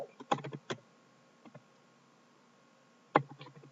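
Quiet typing on a computer keyboard while editing information in a software form: a few scattered key clicks, a short cluster at the start, a couple of soft taps mid-way and another burst near the end.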